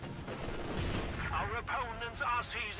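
In Company of Heroes 2, a Vickers machine gun rattles in bursts amid distant battle noise, partly under someone talking.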